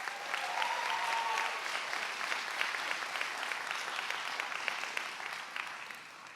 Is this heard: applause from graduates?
yes